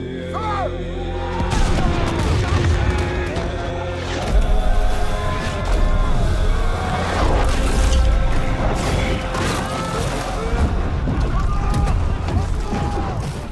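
Cannon fire booms out in a Napoleon film battle scene on ice at Austerlitz, with loud, dense blasts and crashes over about thirteen seconds while shouted voices and a music score sound beneath.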